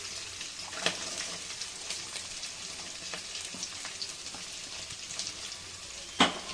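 Carrot pieces tossed into a hot pan for sabudana khichdi, with green chillies already in, give a steady low sizzle, a few soft stirring scrapes and a sharper clatter near the end, fairly quiet and without talk.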